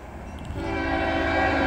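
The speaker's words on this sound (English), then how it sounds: "a train should be coming around this corner right here." A train comes around a bend, its rumble building steadily louder and closer with a sustained tonal hum, no talking.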